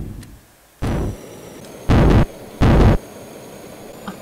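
Missile explosions in the building game Stormworks: three separate loud, booming blasts about a second apart, each with a short, dense roar, against a quiet hiss.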